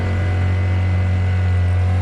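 A 50cc Honda outboard motor runs steadily on a Nucanoe F12 fishing kayak, a close, constant buzzing drone with a strong even tone and no pauses.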